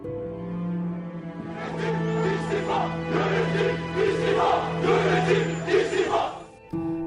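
Beşiktaş football supporters chanting in unison in a large crowd, a loud rhythmic mass of voices sustained for several seconds before cutting off abruptly near the end.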